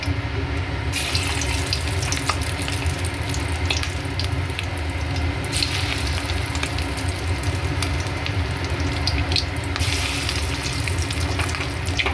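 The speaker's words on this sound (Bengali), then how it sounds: "দিয়ে দেবেন তেলে আর একটু ডিপ ফ্রাই করে নেবেন" Fish egg fritters (macher dimer bora) deep frying in hot oil, a steady dense crackling sizzle running unbroken throughout at close range with no talk.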